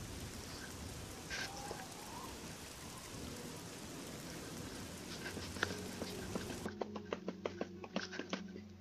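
Steady video-game rain patters across the whole stretch, with a sharper rhythmic tapping layer joining near the end; faint distant rumbles sit under the downpour.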